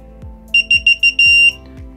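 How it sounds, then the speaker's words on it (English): Four short, bright electronic beeps in quick succession followed by a longer tone, from a nearby Speco access control keypad entering Wiegand mode, with low clicks in the background. "Those four beeps indicate that you are in Wiegand mode"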